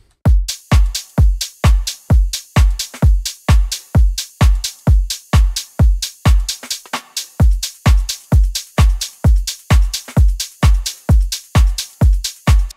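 Electronic drum loop with a very deep, punchy stomping kick and a rim shot, hitting in a steady, driving pattern close and loud throughout, with a brief thinner patch midway and no talking.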